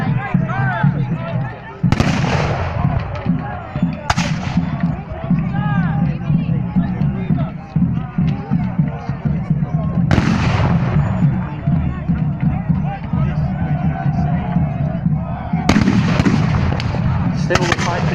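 Battle of Gloucester English Civil War reenactment, with light guns and musketeers firing: several loud, sharp booming reports at irregular intervals, each followed by a decaying rumble, over constant crowd and battlefield noise.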